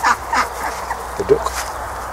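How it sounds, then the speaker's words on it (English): Indian runner ducks on a community farm give a few short quacks, loudest near the middle, over steady outdoor background noise. "Indian runner ducks."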